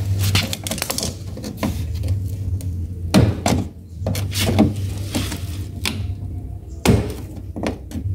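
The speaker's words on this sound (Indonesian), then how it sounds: "karena ini bautnya udah karat ya, dilepas pakai tang ya" A rusted bolt is worked loose with pliers on a single-tub automatic washing machine, making a series of close metallic clicks, clanks and scraping knocks in irregular bursts over a low background hum.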